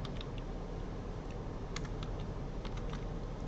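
Text is typed on a computer keyboard, giving quick irregular clicks of keys over a steady background hiss, close and with no talk.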